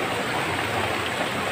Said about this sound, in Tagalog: Tignan nyo yung ragasan ng tubig.